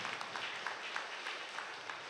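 A church congregation at a Holy Mass applauds married couples, a faint, distant patter of clapping filling the short stretch evenly.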